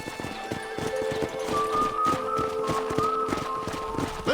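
Horse hooves at a ranch corral in the western game Red Dead Redemption: close, regular clip-clop steps in a steady walking rhythm, with faint tonal ambient sounds and a hint of whinny behind them.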